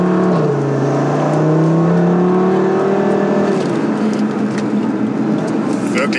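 A 560 PS Audi RS3 accelerates hard in S mode, its engine note rising in pitch then shifting into a steady loud roar heard from inside the cabin.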